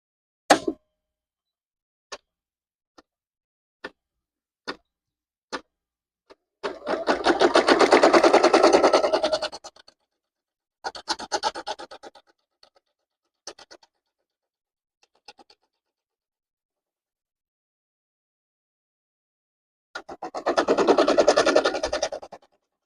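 A flatbed embroidery machine stitching baby bibs runs in three loud, rapid whirring bursts, the longest near the middle, with sharp isolated clicks and taps in the pauses and no talking.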